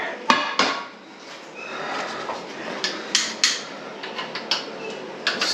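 A cast iron pan being pulled out and handled in a home kitchen, with a series of sharp metallic clanks and knocks, some close and loud, scattered irregularly through the clip.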